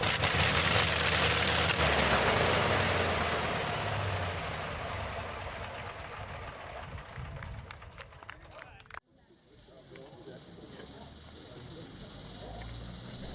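A Bristol Hercules radial aircraft engine runs on a demonstration stand at a museum engine event, a loud, dense roar that slowly fades before cutting off abruptly. A quieter high-pitched whine and hum follow, with a voice talking over the sound.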